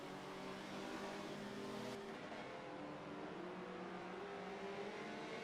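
Race car engines roar continuously in a sim racing game, with a Goodyear NSX among the cars, a dense, steady engine drone with a brief shift in pitch partway through, heard alone without talk.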